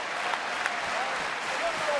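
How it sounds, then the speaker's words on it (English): Wrestling crowd inside the Barclays Center in Brooklyn during a televised tag-team match, a broad roar of cheering and clapping, with a commentator talking over it. "crowd here inside the Barclays Center trying to get Enzo Amore back in this match"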